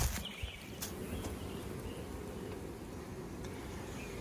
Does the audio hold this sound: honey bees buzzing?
yes